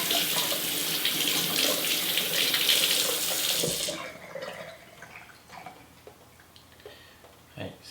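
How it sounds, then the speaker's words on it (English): A sink tap runs hard for about four seconds while something is rinsed under it. The flow then shuts off, leaving quiet drips and faint handling noises close by. "I'm going to rinse it off in the sink."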